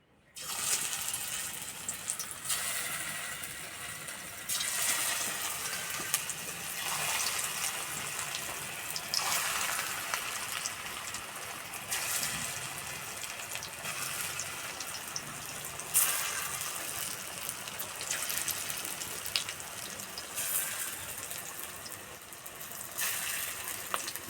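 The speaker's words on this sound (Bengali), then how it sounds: "তেল গরম হয়ে গেছে এবার ভেজে নেব" Papaya pakoras deep frying in hot oil give a steady, broad crackling hiss that holds evenly for the whole stretch, close and fairly loud, with no voices.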